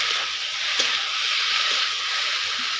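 Spice paste sizzles steadily in a hot pan while cooking a fish curry, a bright continuous hiss with a few soft stirring knocks underneath.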